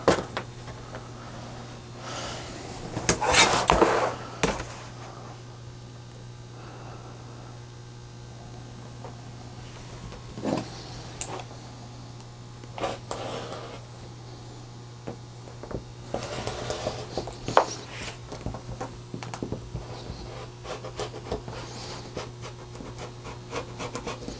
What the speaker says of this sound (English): You can just take small little cuts with the rotary knife around the radius